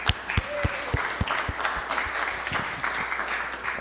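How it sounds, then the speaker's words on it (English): An audience applauding a band at a live event, a dense patter of claps with a few sharp individual claps standing out, sustained steadily throughout at moderate loudness. "Let's give them another round of applause."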